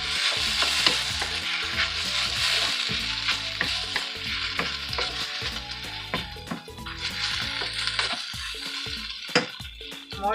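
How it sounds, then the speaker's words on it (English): Beef and tomatoes fry in a pan with a dense, crackling sizzle, broken by repeated scraping and clacking strokes of stirring, close and continuous throughout without speech. "Let's stir it."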